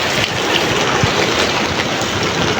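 Heavy rain pouring outdoors in the UAE, a dense, loud and continuous wash of rainfall with no voices.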